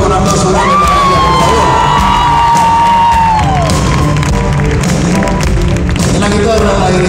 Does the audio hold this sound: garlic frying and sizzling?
no